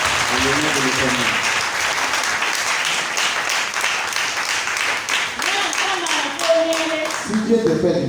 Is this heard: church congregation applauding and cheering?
yes